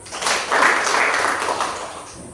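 A class of pupils gives a short round of applause after a classmate leads a prayer, a steady wash of clapping from a room full of children lasting a couple of seconds.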